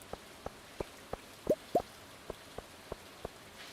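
Rain in the video game Stardew Valley falls as a steady run of light, evenly spaced ticks and drips. Two brighter, louder plinks stand out midway over a faint hiss, and nobody speaks.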